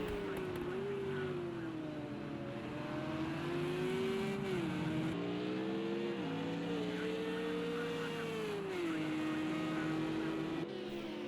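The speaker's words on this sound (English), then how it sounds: "Let's have a look at Jack Game in the Porsche. Coming down now towards the hairpin back onto the oval." Porsche GT3 race car in the Project CARS 2 video game on the Texas road course, its engine note steady then dipping and rising through a hairpin, with a commentator talking over it.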